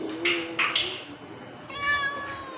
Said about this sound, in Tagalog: Yung pusa namin, oh.